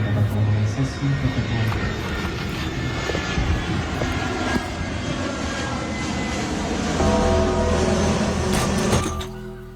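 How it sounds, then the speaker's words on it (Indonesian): A low-flying airplane roars overhead near an airport during a neighborhood celebration, a loud, sustained engine drone that swells toward the end and then cuts off. "gak nyangka lihat pesawat terbang serendah ini"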